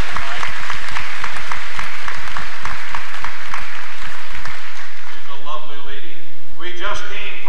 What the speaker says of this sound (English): Let's clap for everybody else.